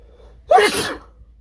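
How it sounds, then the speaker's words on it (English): A single sharp sneeze bursts out after a moment of quiet, close and loud, trailing off with a short breathy tail. "Oh, I need to sneeze."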